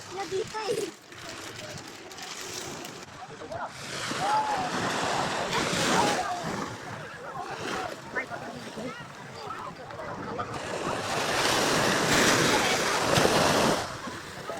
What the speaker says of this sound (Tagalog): There's a typhoon coming. It's a sandstorm.